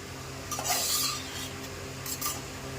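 Vegetable or chicken pieces being stirred in oil in a pan: a few scraping, clinking spoon strokes against the pan over a soft sizzle, close and fairly quiet.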